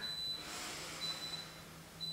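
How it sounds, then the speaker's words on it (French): A faint high electronic beep sounds a few times, short tones spaced apart over a quiet room hum. "qu'est-ce que ce petit bip-bip. Nous avons un lave-vaisselle et il a décidé de dire bonjour"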